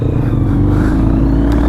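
Close, loud, steady engine drone of a Suzuki Hayabusa motorcycle at a petrol pump, held at a sustained rev with deep low rumble throughout and no voices.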